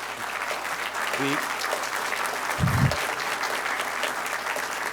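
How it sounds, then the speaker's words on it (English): A crowd applauds at a college mechatronics lab grand opening, steady clapping throughout with a brief voice near the start and a low bump in the middle. "We can give them a round of applause."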